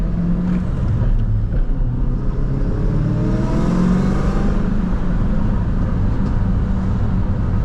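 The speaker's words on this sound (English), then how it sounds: "If you guys could hear the exhaust, it sounds like a tin can" A Cobra car's engine and exhaust run steadily with a rising and falling drone and a thin, tinny rasp, heard from inside or close by, loud and continuous throughout.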